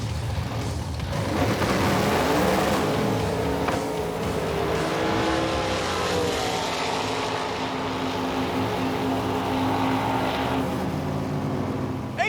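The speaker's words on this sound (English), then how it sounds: "2 8-second Roadkill cars lighting it up for the honor of the fastest car on Roadkill." Two eight-second Roadkill drag race cars launch down the strip with a loud, sustained engine roar that stays close and steady throughout, with no speech.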